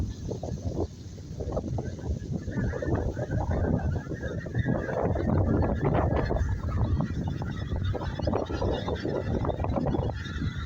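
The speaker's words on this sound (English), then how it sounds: "Just look how many geese are in this field." A large flock of geese in a field honking continuously, a dense overlapping chorus from many birds, with some wind noise on the microphone.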